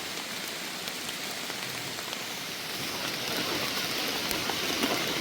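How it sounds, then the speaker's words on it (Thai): Rain falls steadily in a mountain forest as a dense, even hiss of drops on leaves and ground, growing slightly heavier toward the end. "ฝนตก"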